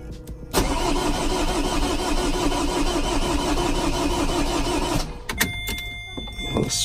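A Vauxhall Corsa D 1.3 diesel cranks without firing, the starter churning in a loud, steady rhythmic whir for about four and a half seconds before stopping, followed by a few clicks and faint electrical tones.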